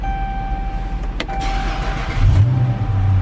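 A 2013 Chrysler 300 S with push-button ignition starts up: a brief whir and click, then the engine catches and settles into a steady, close idle.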